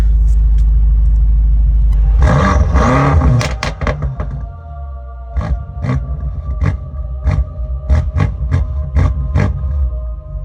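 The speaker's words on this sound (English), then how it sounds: "Give y'all a couple revs, man." A stage 1 tuned BMW M5 roars through a loud close rev that drops back to idle, then a rapid run of sharp throttle blips follows over the low rumble of the engine.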